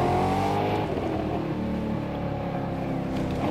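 Dodge Demon V8 in The Crew Motorfest roaring at steady high revs throughout, a loud continuous engine drone with deep harmonic layers and slight rises in pitch, heard alone without talk.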